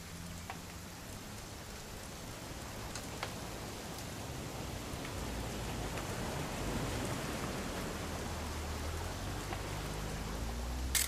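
Steady rain falling in the video game What Remains of Edith Finch, a constant hiss of raindrops hitting surfaces with occasional louder drips, filling the whole scene without any speech.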